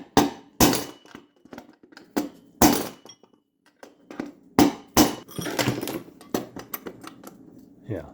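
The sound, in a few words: hammering metal on a vintage RV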